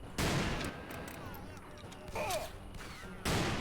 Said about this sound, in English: Well, ain't nothing to do but start shooting. Yeah, it's a good thing I bought this nice scope rifle